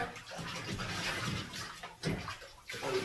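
Lukewarm water splashes and runs in a bathtub as dogs are bathed, an uneven wet sloshing with brief pauses and surges, fairly close.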